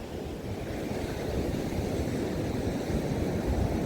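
Sea waves wash onto the shore at Odesa, a continuous low rumbling surge with wind buffeting the microphone, close and steady with no voices.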